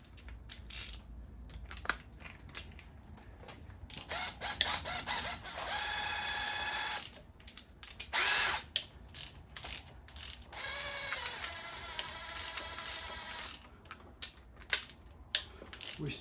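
A ratchet wrench turns a socket on a 1984 Chevy engine during a bottom-end rebuild, giving bursts of quick clicking that start and stop in short spells, fairly quiet and close, with no talk.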